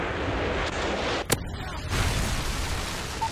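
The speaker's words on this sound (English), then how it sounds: "Friendly Predator missile inbound." A Predator missile strikes in Modern Warfare 3 multiplayer, its sharp blast landing about a third of the way in and rising briefly above a steady roar of game noise and gunfire.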